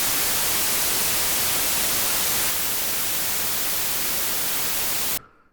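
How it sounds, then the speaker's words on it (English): Steady, loud hiss of white noise fills the whole stretch, its texture shifting slightly midway, then stopping abruptly. "if you play a white noise signal, either the same signal into both ears or a different signal for left and right"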